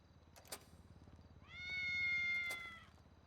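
A single drawn-out cat meow sounds in the middle, clear and alone over a low background hum, with a couple of faint clicks before and after it.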